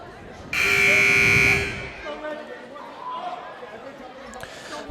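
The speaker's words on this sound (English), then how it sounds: "The buzzer sounds." A loud electronic buzzer at a high school boys basketball game between Diman and Bishop Connolly blares for about a second, close and harsh, followed by gym crowd noise and talking.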